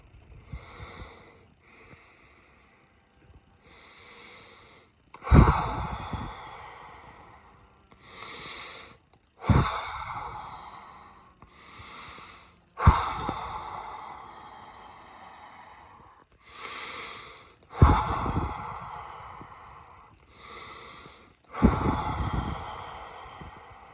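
Deliberate breathwork breathing: slow, loud inhales alternate with forceful exhales in a steady repeating cycle about every four seconds, close to the microphone with no talking.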